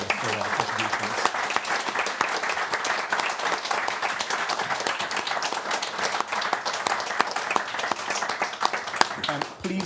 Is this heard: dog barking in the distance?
no